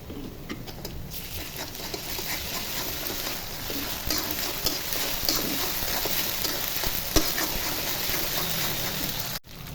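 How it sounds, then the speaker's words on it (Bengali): Ginger and garlic sizzle with already-fried onion in a hot pan, a steady crackling frying hiss with occasional stirring scrapes, close and continuous. "পেঁয়াজ ভাজা হয়ে গেছে, এখন আদা রসুন দিয়ে ভেজে নিব।"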